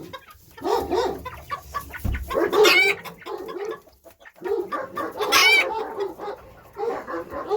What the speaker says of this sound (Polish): O, tutaj ten kogucik patrzy, co się dzieje.